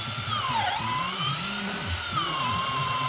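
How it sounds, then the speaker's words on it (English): A drill whines continuously as it bores through glued timber, its pitch dipping and rising under load, with low grinding beneath. "The drill's going through the glue."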